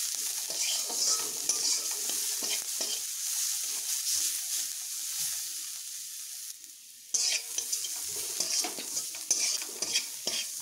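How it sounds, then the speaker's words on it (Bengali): Onions frying in a pan with salt, browning while stirred: a steady close sizzle with repeated scraping strokes of a spatula, a brief dip partway through, then the hiss resumes. "নুন দেবার পরে আমি একটু ভালোভাবে এইভাবে নেড়ে একটু আমি এগুলোকে ব্রাউন করে ভেজে নেব"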